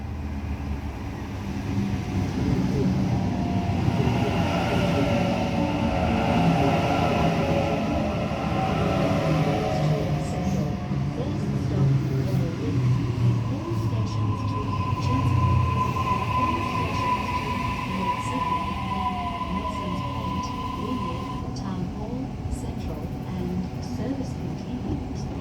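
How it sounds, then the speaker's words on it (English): A Waratah A set electric passenger train, set A53, rolling into platform 1 at Wahroonga station with a loud, close, sustained rumble of wheels and motors, and a rising whine and squeal as it slows to a stop. "we have a Waratah A set arriving onto platform number 1"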